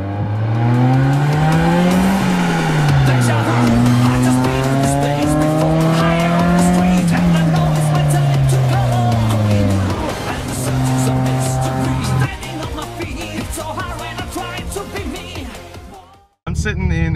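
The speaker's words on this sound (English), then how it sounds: "I'm sitting in a JDM 1986 Toyota Corolla AE86 Levin." A right-hand-drive JDM 1986 Toyota Corolla AE86 Levin drives along, its engine droning loud and steady from inside the cabin, the pitch rising and falling with throttle changes before cutting off abruptly at the end.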